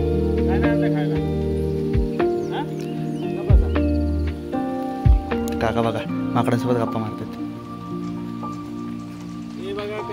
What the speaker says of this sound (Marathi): बघा पाऊस तेवढा जोरात चालतो आहे ना